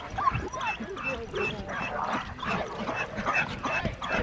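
Several dogs bark, yip and whimper excitedly together at the start line of a canicross race, a busy overlapping chorus of close barks running steadily throughout with no talk.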